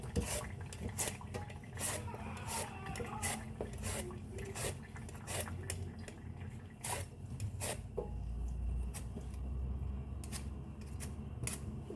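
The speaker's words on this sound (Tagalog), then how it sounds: "Magbalat tayo ng patatas" Potatoes are peeled by hand in a home kitchen, with a steady series of quiet close scraping and cutting strokes and small clinks of utensils.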